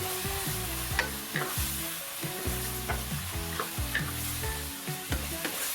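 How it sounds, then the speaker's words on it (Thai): Minced pork and boiled bamboo shoots stir-fried in a hot pan, a steady close sizzle broken by repeated scraping and clanking strokes of a spatula against the metal, with no talking. "ผัดทุกอย่างให้เข้ากันเพราะหน่อไม้เขาสุกอยู่แล้วนะครับ"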